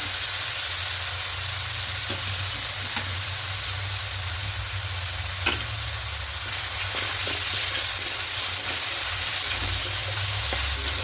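Onion, ginger and garlic spice paste for a potato and cauliflower roast fries in a pan with a continuous loud hiss and sizzle, a low rumble underneath and occasional faint stirring clicks.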